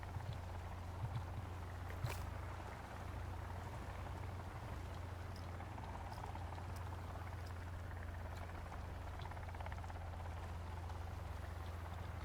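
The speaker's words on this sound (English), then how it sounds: "Where's that helicopter" A helicopter in Sons of the Forest gives off a faint, distant, steady low rotor drone. It continues throughout with a soft rumbling texture and no talk.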